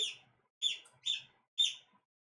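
A pet bird gives short, high chirping calls, four quick bursts in a row, close and clear in an otherwise quiet room.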